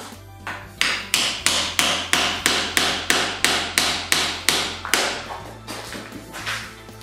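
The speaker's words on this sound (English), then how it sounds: "I'm going to use a chisel and a little hammer to knock that out" A steady series of sharp metallic hammer taps on a chisel knocking dead bark off a Rocky Mountain juniper, about two per second, close by, with a low hum underneath.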